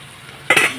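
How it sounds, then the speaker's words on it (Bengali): Fried young jackfruit tips into a hot kadai for a Bengali jackfruit-and-shrimp dish, a quiet moment broken by a sudden loud splash of pieces landing and a brief crackling sizzle that fades out. "এখন আমি ইঁচড়গুলো ঢেলে দেবো সব ভাজা হয়ে গেছে"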